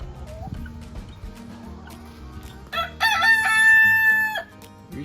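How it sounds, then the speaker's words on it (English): Chickens cluck softly on a muddy farm before a rooster lets out a loud, drawn-out cock-a-doodle-doo close by, with other barnyard fowl audible faintly around it. "Rooster."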